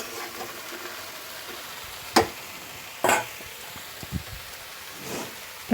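Pieces of bottle gourd fry lightly in a pan with a soft steady sizzle, broken by a few sharp stirring clatters and scrapes.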